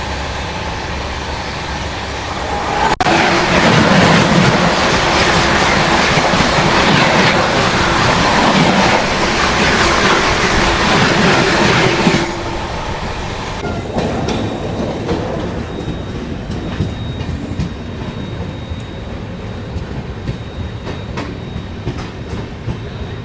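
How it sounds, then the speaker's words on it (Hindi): The Kota Patna Express rolls along the rails with a loud, close rumble and rhythmic clickety-clack from inside the carriage, then eases to a quieter, steadier run as it nears Bayana Junction. "तो अभी अपनी ट्रेन पहुंच चुकी है बयाना जंक्शन रेलवे स्टेशन।"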